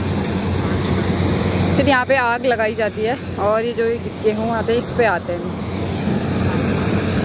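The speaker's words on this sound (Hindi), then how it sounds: "पीछे आपको क्रशर की आवाज़ आ रही होगी।" A crop crusher machine runs in a harvested rice paddy field, a steady, low engine drone in the background that continues under close, continuous talking.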